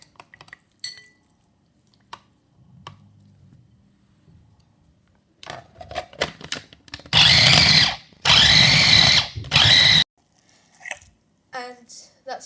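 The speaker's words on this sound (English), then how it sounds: "Now we're going to blend our chicken pieces." A kitchen blender mincing chicken pieces runs in three loud, close bursts separated by brief pauses, with softer clinks and handling sounds before and after.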